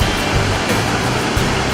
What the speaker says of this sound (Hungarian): A dominikai dupla vizesés.